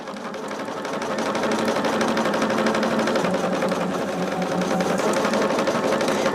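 A sewing machine runs steadily for several seconds, a dense continuous mechanical whir with fast rhythmic needle chatter, close and fairly loud, with no talking.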